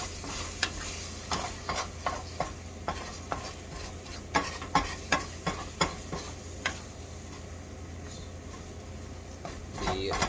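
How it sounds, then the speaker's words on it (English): Breakfast wrap filling with melting cheese stirred in a pan with a spoon, soft sizzling under a run of close, rhythmic scraping strokes that ease off toward the end. "The cheese will melt. Well, as you can see, I'm just sort of stirring it around a little bit."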